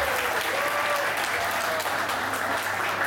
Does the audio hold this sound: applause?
yes